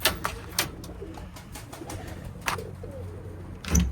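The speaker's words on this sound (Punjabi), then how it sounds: "ਇੱਧਰ ਆਪਣੇ ਸਾਰੇ ਵੱਡੇ ਕਬੂਤਰ ਆ" Pet pigeons cooing in a loft or coop, soft repeated coos with occasional wing flutters and light clicks, near and steady throughout, with no talk.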